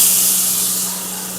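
Chopped garlic sizzles in hot oil in a pan, giving a loud, steady, bright hiss that eases slightly by the end, with no voice over it.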